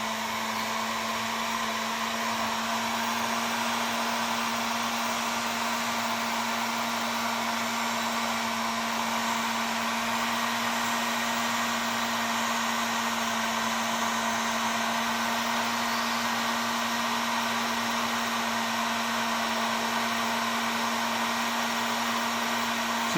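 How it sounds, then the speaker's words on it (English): A heat gun set at 350 degrees blows steadily on a butt splice heat shrink connector, producing a constant, even whir with no talk, unchanged from start to finish. "Now we'll go ahead and heat that butt splice up with our heat gun."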